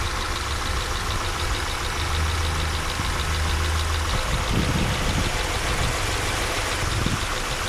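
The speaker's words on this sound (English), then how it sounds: "Now I gotta find the hot part of the engine." Car engine idling up close during a road trip across the American Southwest, a steady low rumble with a faint ticking rhythm, running alone without talk.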